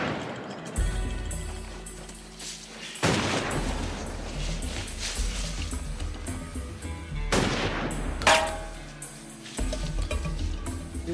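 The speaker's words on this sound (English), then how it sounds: "He wasn't shooting at us." Gunfire from a rifle, with several sharp loud shots and booming blasts echoing across about eleven seconds, separated by quieter stretches of background rumble.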